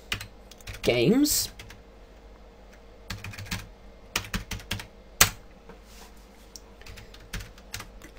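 Computer keyboard keys tapped in short uneven bursts while entering DOSBox commands, fairly close and clear, with someone talking over parts of the typing.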